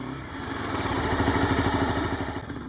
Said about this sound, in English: getting ready to head out on my 2011 Honda CBR250r